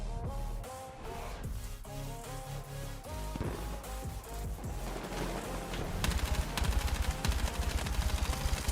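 Rapid bursts of automatic gunfire from a Battlefield 6 battle royale match crackle over layered game music and effects, the shots growing louder and denser toward the end.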